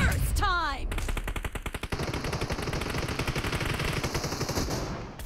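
Rapid automatic gunfire from the mobile shooter PUBG Mobile during a team deathmatch, a dense continuous burst of shots after a brief game voice cue, loud and steady throughout.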